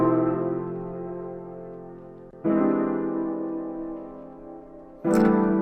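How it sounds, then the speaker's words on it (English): Vintage-style Rhodes electric piano chords with reverb and ambience effects, three sustained chords, each struck and left to ring and slowly fade, with a brighter attack on the last. "Really pretty Rhodes with effects."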